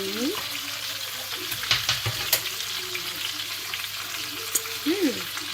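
Chicken pieces frying in a pan for a cream-sauce dish, with a steady close sizzle and some stirring clatter. Faint tonal sounds and brief clinks sit over the hiss, and no one speaks.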